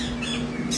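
A six-year-old yellow-naped Amazon parrot lets out a loud, harsh squawk lasting under a second, close up, with a sharp bright burst at the end.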